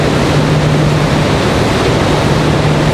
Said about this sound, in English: Hopefully just a quick, brief rainstorm.